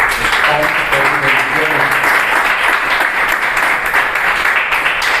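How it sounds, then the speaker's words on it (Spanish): Church congregation applauding during a worship service, a dense, steady wash of many hands clapping that stays loud and even from start to finish, filling the room without a break. "Damos un aplauso al Señor"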